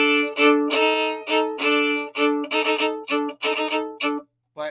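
A violin plays a phrase from Danse Macabre as a series of bowed notes and short double-stop chords, bright and close, with brief gaps between strokes and no talking.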